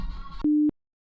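A single short electronic phone-call tone that sounds right after a moment of mixed background noise. The steady tone is fairly loud and clear, and it cuts off into silence.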